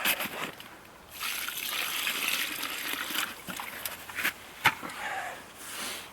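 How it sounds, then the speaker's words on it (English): Water pours and splashes into a bucket of clay paint mix in a steady gushing trickle, with a few sharper splatters near the end. "Then I'll add some water."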